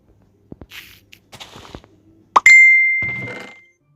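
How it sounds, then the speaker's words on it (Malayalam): A single bright notification chime rings out in a game session, holding a steady tone for about a second before fading, following scattered clicks and soft thuds. "നോട്ടിഫിക്കേഷൻ"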